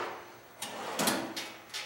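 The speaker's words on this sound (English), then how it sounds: "You got a really deep drawer here at the bottom." Drawers of a Craftsman Edge 13-drawer tool box sliding open and shut, several quick metallic rolling clunks in succession, close and clear with no talk.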